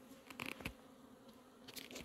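Honeybees buzz around a balloon hive after being moved, a faint, soft hum with a few brief, closer passes of individual bees.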